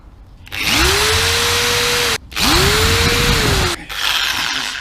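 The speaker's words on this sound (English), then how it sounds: "I'm putting a fairly deep countersink because I want the screws totally out of the way." A power drill countersinks screw holes in a wooden serving tray in two loud close bursts, each whining up in pitch and holding steady before stopping, with a shorter grinding run at the end.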